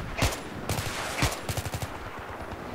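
Gunfire in the video game Battlefield 3, on the Rush mode map Operation Firestorm: scattered single shots and short bursts crack at varying distances, fairly faint overall, with no talk.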